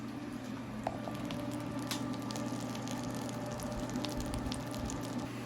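A grilled cheese sandwich cooks in a pan, giving a steady, even sizzle with soft crackles throughout. No one speaks over it.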